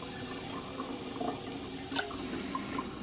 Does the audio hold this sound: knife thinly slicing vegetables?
no